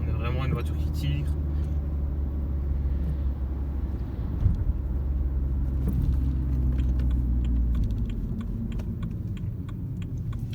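A BMW 3 Series on a road test, its engine a steady low rumble throughout as the car drives and pulls, with a person talking in the cabin over the drone.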